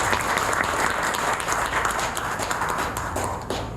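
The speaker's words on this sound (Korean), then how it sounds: "여러분 박수 부탁드리겠습니다." Applause fills a hall at an academic conference opening ceremony as a society president is introduced, many hands clapping in a dense, loud, even patter that dips slightly at the end.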